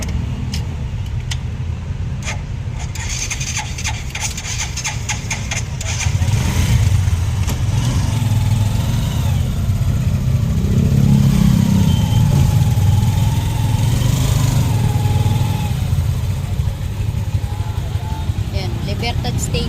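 A motorized tricycle's engine runs steadily while riding, a continuous mid-range rumble that grows louder partway through, with voices talking over it.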